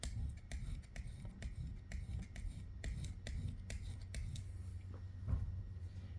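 High carbon stainless scissors being sharpened on a stone, giving close, repeated short scraping and clicking strokes at an uneven rhythm over a low background hum.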